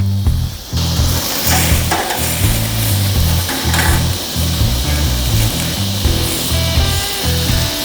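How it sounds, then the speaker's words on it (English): Picanha fat cap searing on a barbecue grill, a loud continuous sizzle with rough crackling texture throughout, steady and close, no talking. "Gonna sear this fat cap off a little bit"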